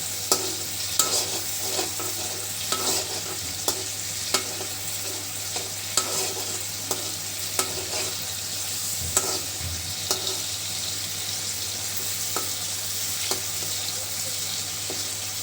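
Spice masala stirred and fried in oil in a pan gives a continuous soft sizzle, punctuated by frequent sharp scrapes and taps of the spatula against the pan.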